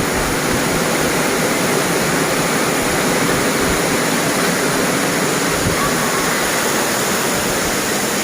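Direntha Waterfalls in West Karbi Anglong roar steadily, a dense, constant rush of falling water filling the whole clip without pause.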